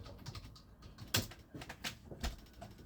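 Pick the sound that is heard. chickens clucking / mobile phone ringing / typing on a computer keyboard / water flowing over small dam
typing on a computer keyboard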